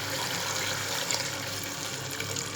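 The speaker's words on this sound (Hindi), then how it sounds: "अब हम इसमें गोश्त गलने का पानी डाल रहे हैं।" Water is poured steadily into a pot of browned beef for nihari, a continuous close splashing rush with no talk.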